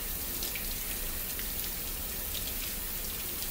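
Hands being washed under a running faucet while preparing food: a steady, close, even rush of water with small scattered splashes and drips throughout, and no voices.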